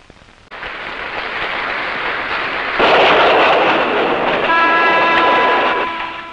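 A guarded train travelling from Rangoon to Mandalay in Burma, led by an armored pilot engine: loud rumbling rolling noise that swells, then a sustained horn blast rings out over it.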